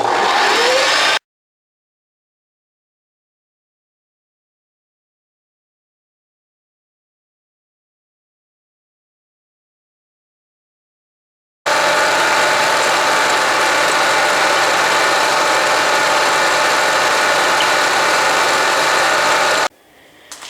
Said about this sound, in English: So this is flute 7 that I'm milling right at the moment.